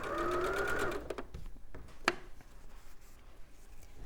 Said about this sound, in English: So if I sew these, I'll chain piece these together, keep this nice and speedy.